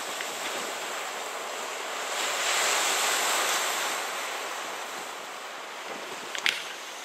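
Ocean surf rolls steadily onto the shore at Punta San Carlos, a broad continuous wash that swells in the middle and is overlaid by wind noise, with no voices.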